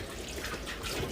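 Water splashing while dishes are scrubbed by hand, a short burst of dense watery rinsing and trickling, fairly close.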